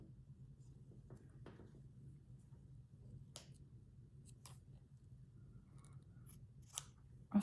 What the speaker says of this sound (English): Let's trim this down a bit.